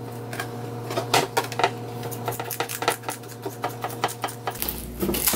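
Scissors snipping the fins off dried cod, a run of sharp crisp clicking cuts at an uneven rhythm over a steady background hum, close and fairly loud.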